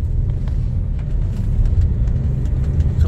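Steady road traffic in the center of Tabuk City, Kalinga, a loud continuous low rumble of cars and pickups passing close by.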